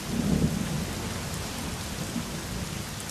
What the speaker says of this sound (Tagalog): Paulan-ulan pa kasi.